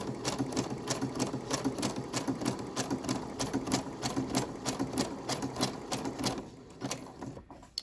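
A sewing machine stitches through a cardstock junk journal tag, a fast steady mechanical rattle of needle strokes close up for most of the stretch, then slowing and stopping near the end, with no voices.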